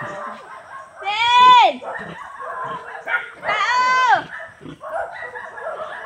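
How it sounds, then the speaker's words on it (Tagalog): Several dogs bark and yelp during a walk through rice fields, with two drawn-out, high whining cries rising above a steady background of fainter barking. "so napakadaming aso pala"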